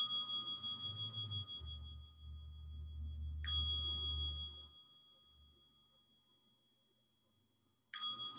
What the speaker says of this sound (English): And I'll invite three sounds of the bell.